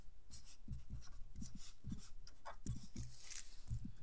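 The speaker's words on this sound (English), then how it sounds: "I'm just going to write it in just for the fun of it" A pen scratching on paper while writing square brackets in a math problem, a close, steady series of short rubbing strokes in an uneven rhythm.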